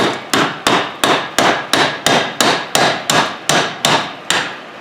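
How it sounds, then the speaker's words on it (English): A hammer knocks a U-joint into the yoke of a Dodge Ram Cummins front driveshaft, about thirteen loud, evenly spaced metallic blows close by, each ringing briefly before the next, with no voices. "I'm just holding the U-joint up in it so my needles don't fall over when I hammer"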